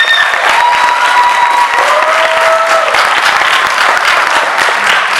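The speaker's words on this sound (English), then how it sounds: "Let's give them a round of applause." A school audience applauds Richardson's intermediate student orchestra on stage, a loud, dense, sustained clapping with light cheering and a few whistles cutting through early on.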